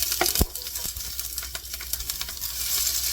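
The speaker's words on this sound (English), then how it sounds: "Okay, let's get ready to start sauteing." Onions, garlic and peppers starting to sauté in a cast iron pan, a soft, steady sizzle with several sharp clacks and scrapes of utensils against the pan.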